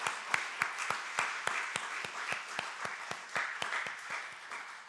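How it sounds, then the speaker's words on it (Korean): A church congregation gives rhythmic applause for graduates and retirees at a retirement service, with fairly regular claps at a moderate, even pace across a few seconds in a reverberant hall. "우리 모든 졸업자와 은퇴자를 위해서 한번 격려의 박수를 다시 한번 드리겠습니다"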